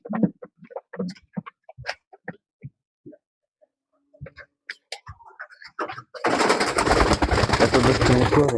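Racing pigeons coo in short, scattered calls at first, then a dense, loud burst of flapping and cooing fills the last couple of seconds, close up.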